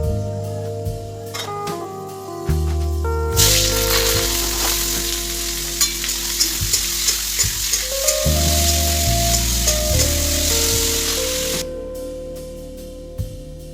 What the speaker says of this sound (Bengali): আলু আর পটল পেঁয়াজ লঙ্কা দিয়ে ভাজা